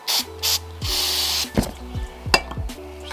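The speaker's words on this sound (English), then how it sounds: "I am going to spray the back of the rod bearing and wipe it down with some brake clean." Brake cleaner sprayed from an aerosol can onto the back of a rod bearing during a Mazdaspeed engine build, heard as a few short, close hissing bursts followed by light metallic clinks and handling noises.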